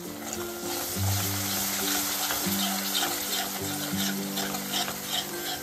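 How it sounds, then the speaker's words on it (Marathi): Masala paste frying in oil for a mushroom curry, a steady sizzle with stirring and scraping in the pan, close and moderately loud, no talk. "छान असं ना अर्ध्या मिनिटासाठी मसाला तेलावरती परतून घेऊया"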